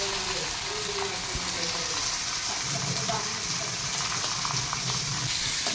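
Onion frying in a pan with curry leaves, chili, garlic and asafoetida for brinjal bharit makes a dense, steady sizzle and hiss that runs unbroken at close range.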